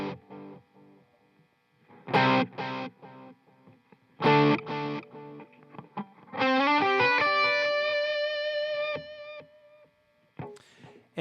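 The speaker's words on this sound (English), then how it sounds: "Here's the sound of my delay." Electric guitar played through a Visual Sound dual tap delay pedal, with short distorted chord stabs and a run of sustained notes whose repeats trail away. Played loud and alone, with no voices.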